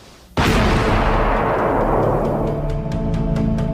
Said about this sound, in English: the preferred method is to detonate the booby trap in place